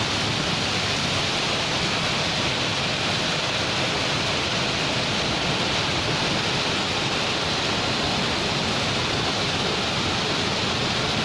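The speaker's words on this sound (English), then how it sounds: "Rain in city, beautiful rain in city" Steady, dense rainfall hisses continuously and evenly over Chandigarh city, loud and close, with no voices or other sounds breaking through.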